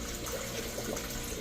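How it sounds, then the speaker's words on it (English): Coolant pouring into the cooling system of a 2001-2004 Nissan Pathfinder R50 or Infiniti QX4, a steady close liquid gush and trickle that runs unbroken and evenly loud throughout. "we're going to start adding some coolant to this guy"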